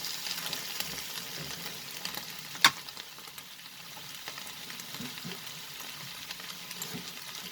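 Chicken and broccoli stir-frying in a pan with soy sauce, giving a steady, moderate sizzle with soft stirring scrapes and one sharp clink near the middle.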